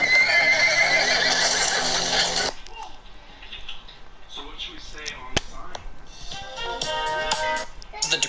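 A horse neighs loudly in Red Dead Redemption 2, a long bright whinny up front, followed by quieter clip-clop hooves, scattered clicks and game sounds.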